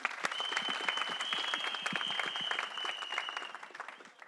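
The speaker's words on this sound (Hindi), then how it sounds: "विवान, प्लीज तालियां होनी चाहिए।" An audience at the teaser launch of a historical drama film gives a brief round of dense, lively applause, with a steady high tone running through it as the clapping tapers off.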